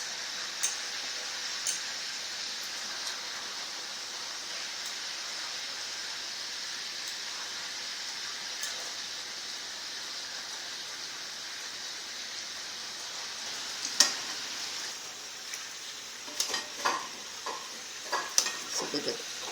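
Meatballs fry in a pan with a steady, moderate sizzle that lasts throughout, and near the end come several clinks and scrapes as they are turned; no voices are heard.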